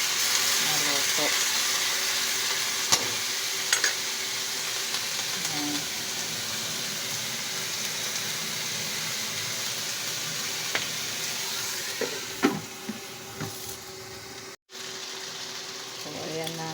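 Meat sizzles steadily in a pan for a long stretch, a broad, even hiss broken by occasional faint clicks and stirring scrapes.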